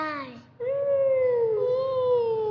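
A person in a children's action-verb lesson imitates crying, giving a short sobbing wail after a brief break, close and loud, with no other sound.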